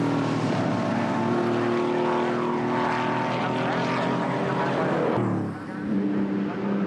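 The leading racing car in a British motor race roars past on its ninth lap, its engine note rising loud and harmonic before dropping sharply in pitch as it goes by and fades.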